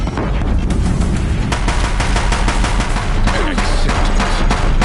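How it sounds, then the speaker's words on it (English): Continuous heavy gunfire from Bringers in Horizon Zero Dawn, a loud, dense barrage of rapid machine-gun shots and booms with no pause, close and overwhelming. "Bringers keep firing, this bridge will go"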